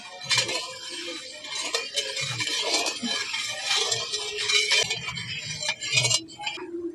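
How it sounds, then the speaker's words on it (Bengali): Milk thickening in a kadai on the stove is stirred continuously, with a metal spoon scraping and clinking against the pan in an uneven rhythm, close and fairly quiet, with no voices. "কড়াটা কিন্তু উনুনে বসানোর পর সবসময় কিন্তু এইভাবে করে নাড়াচাড়া করতে হবে নাহলে কড়ার মধ্যে লেগে যাবে"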